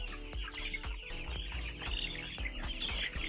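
Broiler chicks in a brooder keep up constant close peeping and soft clucking, a busy overlapping chorus of small birds with no voices over it.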